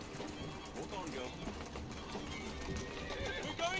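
A horse in Assassin's Creed Syndicate trots with steady clip-clopping hooves and gives a whinny, with birds cooing in the background and someone speaking over it.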